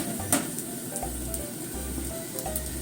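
A potato galette frying in a pan gives a steady, even sizzle close by. Faint low hums and a few clicks sit under it, and no one talks.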